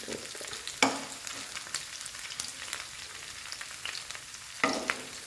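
Cauliflower pieces fry in a pan and are turned over one by one, giving a continuous close sizzle punctuated by sharp clatters and scrapes as pieces are flipped, with a louder flare near the start and another near the end.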